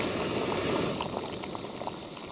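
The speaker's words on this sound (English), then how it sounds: "Oh, now we have big bubbles." Half a liter of water comes to a rolling boil in a Jetboil MiniMo butane camping stove, a steady close bubbling and seething with brief pops over a hissing burner.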